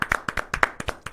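Rapid, steady clapping from a small studio audience on a Brazilian news talk show: about ten crisp, close hand claps in quick rhythm with no voices over them.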